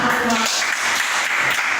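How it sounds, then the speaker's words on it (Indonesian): Steady clapping from a group, a dense, even patter of many hands lasting about two seconds, with a voice briefly audible at the start. "Tepuk tangan untuk"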